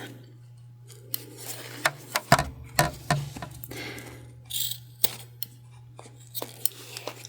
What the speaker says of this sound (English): I am just going to sort of chop off our zips.